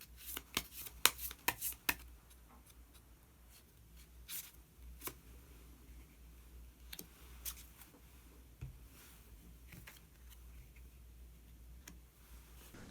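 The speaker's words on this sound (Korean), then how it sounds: "그러면 마지막으로 히든 카드 한 장 더 뽑아보도록 하겠습니다." Tarot cards are shuffled and drawn, giving a cluster of sharp, close card flicks and snaps early on, then sparser soft taps and slides against a quiet background.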